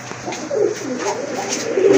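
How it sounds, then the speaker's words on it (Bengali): Sisa Andalusian pigeons coo close by in soft, throaty, repeated rolling calls, with no talking over them. "এটা হচ্ছে আপনার সীসা অ্যান্ডালুজিয়ান কবুতর"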